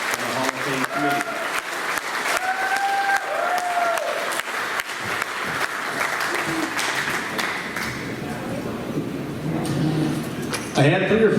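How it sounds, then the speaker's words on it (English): Audience applause at a Hall of Fame induction ceremony in Omaha, sustained clapping with cheers under a speaker's amplified voice that talks over it, swelling again briefly near the end. "I think that deserves a round of applause"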